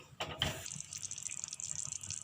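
Hot water is poured into a paneer gravy in a home kitchen, making a short close splash followed by a light, steady trickle of liquid.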